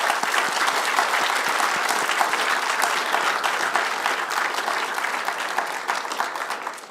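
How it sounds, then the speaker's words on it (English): An indoor conference audience gives a sustained round of applause for outgoing committee members, dense steady clapping from a sizeable crowd that holds at full strength for several seconds before easing slightly. "a round of applause for the outgoing committee members"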